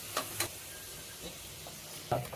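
Large onions sauté in a pan for biryani, a soft continuous sizzle with a few light stirring scrapes and clinks, close and fairly quiet.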